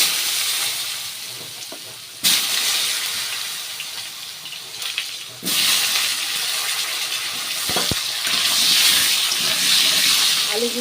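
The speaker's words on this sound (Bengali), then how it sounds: "এবার কিন্তু এই তেলের মধ্যে আমি আলুগুলো ভালো করে ভেজে" Potatoes frying in hot oil in a pan, after fish was fried for a Bengali shol fish curry, giving a steady broadband hiss that swells loudly in bursts and fills the whole stretch without talk.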